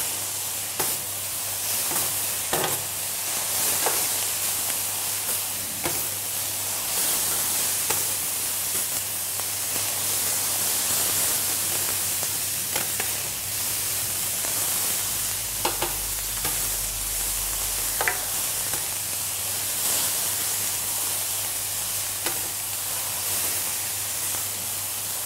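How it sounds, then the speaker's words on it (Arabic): Onions sizzle and fry in a pan while being stirred, a steady hissing crackle with occasional scraping clicks of the utensil, close and continuous without talk. "نبلش نحرك فيها لنشوف انه البصل بلش يدبل"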